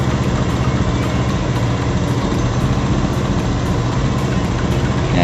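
A car engine idles steadily during a diagnostic scanner check while warming up, a loud, continuous, close-up drone with a regular low pulsing rhythm and no talking.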